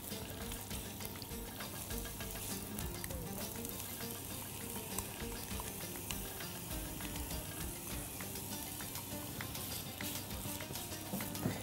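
Chopped onion frying in heated oil in a pan, a steady close crackling sizzle that runs on without a break, with occasional faint stirring.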